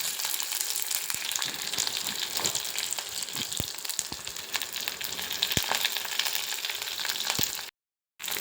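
Curry leaves fry in oil for a moong dal dish, giving a continuous soft crackling hiss with scattered small pops and taps. Near the end it cuts briefly to silence.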